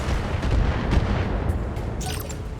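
Mech weapons fire and explosions in the BattleTech game, a continuous dense rumble of booms and blasts with a brighter burst near the end, loud and unbroken with no talk.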